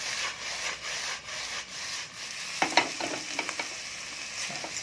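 Mie goreng ayam noodles are tossed with sauce in a pan, giving a low rubbing, frying hiss that turns into a quick run of scraping, stirring strokes in the second half.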